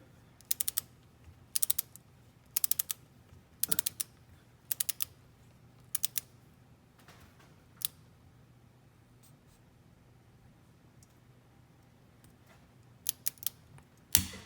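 A torque wrench set to 15 inch-pounds tightens the rear differential plug on a 2016 Mercedes-Benz GLA45 AMG, giving faint ratcheting clicks in short clustered bursts against near silence, with a sharper click near the end.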